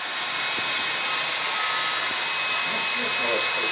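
An electric heater blows hot air onto a thick plate, giving a steady, loud broadband whoosh that runs without a break, with a few faint clicks and a brief low tone near the end.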